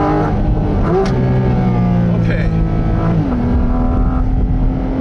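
A Porsche GT4 RS engine revs hard on a mountain pass, a loud, close, steady high-rpm roar with shifting pitch, heard from inside the car under some voice.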